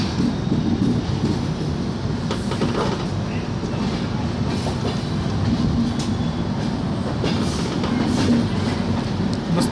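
Avadh Assam Express train pulling onto platform 1, a continuous rumbling roll with rattling carriages and scattered metallic clanks and squeaks, loud and close throughout.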